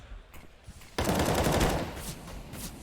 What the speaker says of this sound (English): He actually pushes down where the gunfire was coming from.